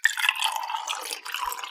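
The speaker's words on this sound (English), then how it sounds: "Water in the cup." Water poured into a cup as a sound effect: a short, bright trickling splash lasting under two seconds, close and clear, alone with no voices.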